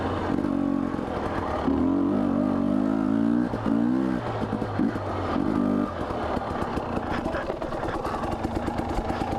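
A Husqvarna TE250i trail motorcycle out on a trail, its engine buzzing and revving in short bursts, sometimes fluttering, with a rough, uneven ride noise continuing afterward.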